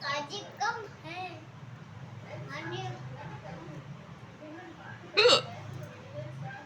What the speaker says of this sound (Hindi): तुम ज़्यादा हिचकी है। मेरे ज्यादा हिचकी है।